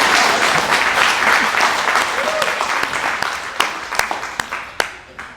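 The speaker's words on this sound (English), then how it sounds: "Do I get an applause for that?" A theater audience at a spoken-word showcase breaks into dense, loud applause that thins out over a few seconds, ending with scattered individual claps.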